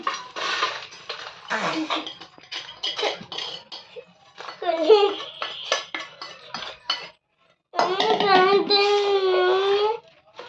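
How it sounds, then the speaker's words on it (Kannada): Cooked poha mixture being transferred onto a plate in a home kitchen, with a spoon clinking and scraping against a metal pan and plate in short bursts, under someone talking and a voice. "ಫ್ರೆಂಡ್ಸ್ ನೋಡಿರಿ ಈಗ ನಾನು ಒಂದು ಪ್ಲೇಟ್ನಾಗ ಹಾಕೋತೀನಿ"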